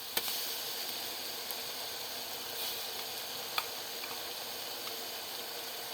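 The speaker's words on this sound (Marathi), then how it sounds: "वाटण चांगलं परतून घ्यावं" A paste of ginger, garlic, green chili, coriander and mint fries in a pan for chicken dum biryani, giving a steady, fairly quiet sizzle broken by a few sharp ticks of stirring.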